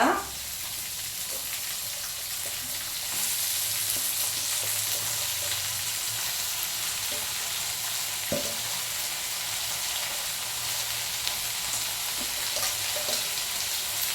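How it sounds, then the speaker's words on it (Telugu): Coriander and mint leaves frying in a pan, an even close sizzle lasting the whole stretch, broken by occasional light knocks and scrapes of stirring, with no one talking. "ఇక్కడ మనకి కొత్తిమీర ఈ మింతాకు కూడా ఫ్రై అవ్వాలి కదా"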